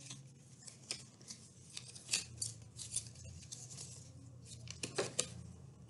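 Scissors snip wedges into a styrofoam UFO shape, a quick run of sharp close cuts and squeaky crunches at an uneven pace over a low steady hum.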